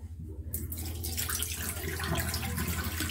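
Tap water runs steadily into a sink while a cleaning rag is rinsed, a continuous splashing hiss with no one speaking.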